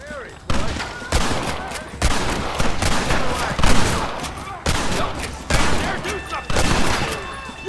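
Gunfire in a Red Dead Redemption shootout at a gate: dense, overlapping rifle and pistol shots in rapid bursts with brief lulls, loud and close, with shouted voices mixed in.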